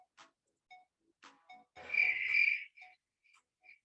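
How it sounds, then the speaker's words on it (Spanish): Cricket chirping sound effect played during an online class, short intermittent chirps with one longer trilling burst in the middle, clear and isolated against silence. "Hay un sonidito de grillo al fondo."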